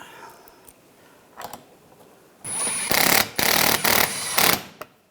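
A power tool buzzes in a few short, loud bursts while tightening bolts on the front grille of a 2013–2016 Dodge Dart, after quieter handling noises.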